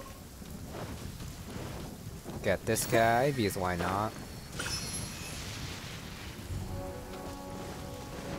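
Thunder and rain from lightning strikes in Genshin Impact: a steady hiss of rainfall runs throughout while a loud, rolling crack of thunder swells in the middle and fades, with someone talking over the game audio.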